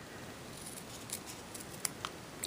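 Scissors trim paper for a handmade snowman card, giving a few faint, soft snips scattered over a quiet room hush, with no talking.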